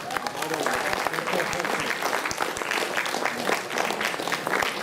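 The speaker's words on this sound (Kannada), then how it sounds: "ಎಲ್ಲರಿಂದ ಒಂದು ಚಪ್ಪಾಳೆ ಬರಲಿ." An audience at a Kannada cultural festival claps together in steady, dense applause. It is close and sustained for several seconds, with no talking over it.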